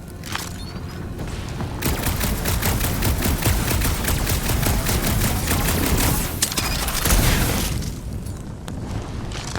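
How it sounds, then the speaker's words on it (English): Sustained rapid gunfire from Peter Quill's blaster in a Guardians of the Galaxy game, dense crackling bursts with heavy booms running almost continuously, easing briefly near the start and end. "What are you firing at, Peter Quill?"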